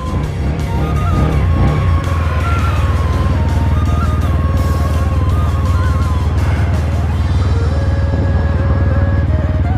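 A motorcycle engine runs loud and close on a downhill slope, a steady rumbling drone with shifting pitch as it revs.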